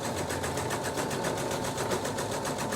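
A sewing machine stitches a medical mask held in an embroidery hoop, giving off a fast, even, continuous mechanical whir and ticking rhythm that is close and steady throughout, with no talking.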